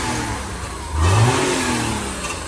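Noisy cars rev along a city street in Messina, Sicily, one engine rising sharply in pitch midway over a steady rumble of passing traffic.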